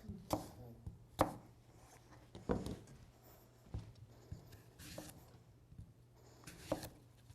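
A knife chops apples on a cutting board in a quiet kitchen, with about seven sharp, close taps spaced unevenly and a faint background hum.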